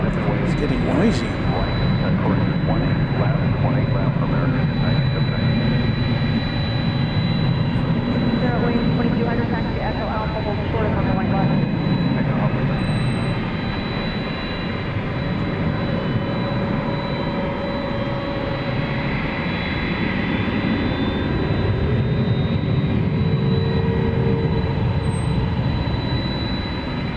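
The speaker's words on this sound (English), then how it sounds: "Long rollout for the flight back to España." Iberia airliner rolling out along the runway after landing at DFW Airport at night: a loud, steady jet roar with rumbling low end holds for nearly half a minute, with a voice talking over parts of it.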